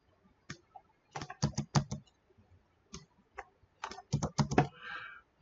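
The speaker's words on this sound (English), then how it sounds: "Just hit a spacebar a couple times." Someone taps the spacebar and keys of a computer keyboard during programming work, giving quick clusters of close, crisp clicks in two bursts separated by a short gap, with a brief soft hiss at the end.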